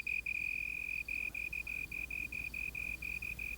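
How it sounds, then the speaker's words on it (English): A slender tree cricket chirps steadily and loudly in a long run of evenly spaced, shrill pulses, close and alone over a faint low hum. "magnifying the sound made by the slender tree cricket that shapes them"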